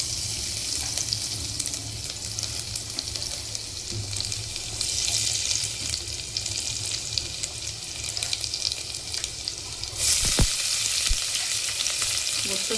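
Garlic and onion dropped into hot oil with cumin for a moong dal tempering, crackling and sizzling steadily, with a louder burst of frying near the end and faint utensil stirring.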